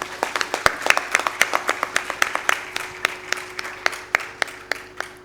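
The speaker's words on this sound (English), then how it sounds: "So can we please have a huge round of applause?" Audience applause at a Bharatanatyam Arangetram, heard as sparse, separate hand claps with sharp close strikes over a thinner spread of clapping, steady for about five seconds, with no talk.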